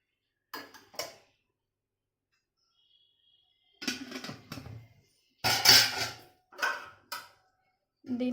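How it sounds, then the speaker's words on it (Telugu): A metal lid is set onto a cooking pan on the stove, giving several short clanks and scrapes of metal on metal between quiet gaps. "దీన్ని ఇప్పుడు మూత పెట్టేస్తున్నాను నేను."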